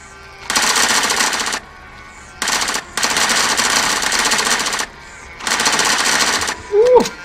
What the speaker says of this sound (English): Let's shoot them.